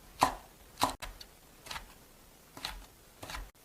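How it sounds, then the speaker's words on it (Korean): A knife slices cheongyang and red chili peppers on a cutting board, making about six crisp, close chops at uneven intervals. "청양고추 하나, 홍고추 하나를 어슷어슷하게 썰어줄게요"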